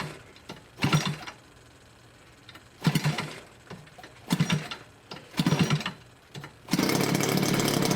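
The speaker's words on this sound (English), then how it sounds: "This is the first time I tried starting the DLE-60 twin with the cowl on." A new DLE-60 twin gasoline model aircraft engine with its cowl fitted is cranked in several short bursts of sputtering pops. It then catches and runs, settling into a loud, sustained buzzing roar nearby.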